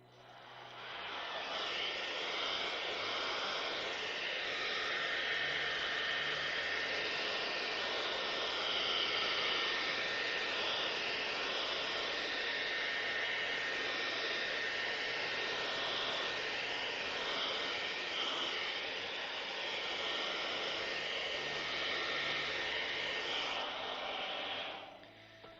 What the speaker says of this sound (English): so I've got my hairdryer here